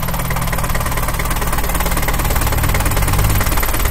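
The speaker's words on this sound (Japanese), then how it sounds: "アイドリング状態の音をお聞きいただくために若干長めの時間を取ったんですけれども" A 1979 Nissan Gloria 220D diesel engine idles close up, with a steady, loud, rattling clatter that holds evenly throughout with no voices.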